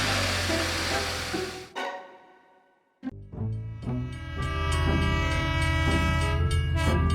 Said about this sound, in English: The train whistles loudly and moves steadily on the tracks.